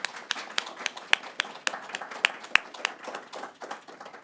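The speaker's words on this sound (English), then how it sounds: "Let's give them a round of applause." Audience applause for a group of scholars at an end-of-program event, heard as sparse, uneven claps with a few sharp louder hits rather than a full ovation, moderately quiet.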